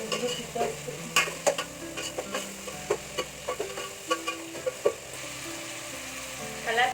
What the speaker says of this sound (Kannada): ಈರುಳ್ಳಿ ಬೆಂದೇ ಇಲ್ಲ, ಆಗ್ಲೇ ಟೊಮೆಟೊ ಹಾಕ್ತಿದ್ದಾನೆ. ಫ್ರೈ ಮಾಡ್ತಾ ಇದ್ದಾನೆ.